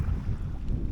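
Strong wind buffets the microphone at a fishing shore, a steady low roar and rumble with gusts swelling and easing throughout, no voices.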